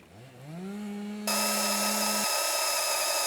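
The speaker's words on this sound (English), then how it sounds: "We're gonna have to drill some holes in that bracket and set that solid so that we can drill that hole." A power drill boring holes into a metal porch bracket: a whine rises in pitch and holds steady, then a louder, harsher broadband grinding takes over as the bit bites into the metal, close and continuous with no talk.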